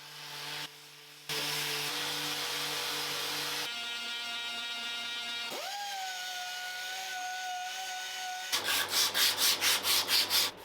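A carved wooden wolf sculpture being sanded with a power tool, a loud close whirring that changes pitch and texture in distinct stages, ending in a rapid pulsing grind, with no talking.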